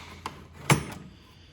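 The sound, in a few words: opening a metal mechanic's toolbox drawer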